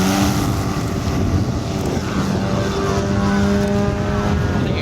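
Giant scale RC glider with an outrunner motor in the nose flying at a model air display, its motor giving a continuous loud drone with shifting tonal whine over a steady background roar.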